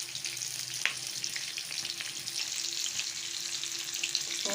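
Onions frying in a pan, a steady close hiss and sizzle with faint stirring scrapes throughout, no voices.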